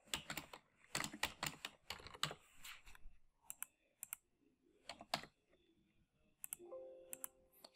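Fingers type quickly on a computer keyboard in bursts of crisp, close clicks, with short pauses and single keystrokes between the runs.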